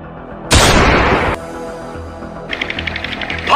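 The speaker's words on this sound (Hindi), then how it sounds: "बम छूट गए रे भैया" A loud, sudden burst of explosive noise lasts under a second and is followed by a quieter stretch. Rapid, rhythmic popping like gunfire then builds toward the end over a low background.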